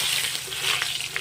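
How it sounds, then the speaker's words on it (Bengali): Potatoes rubbed with turmeric and salt hit hot oil in a pan, giving a continuous bright sizzle and crackle close by, steady throughout with no talking. "আমার তেল গরম হয়ে গেছে, আমি এখন দিয়ে দিলাম আলু।"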